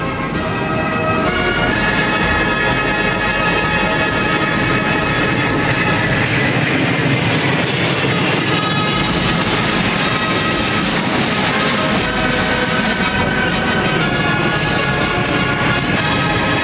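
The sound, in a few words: military aircraft flying over parade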